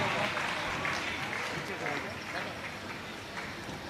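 Applause from the crowd at a camp closing ceremony in Ashok Nagar honors an elder guest, a moderate continuous patter of clapping that eases slightly toward the end.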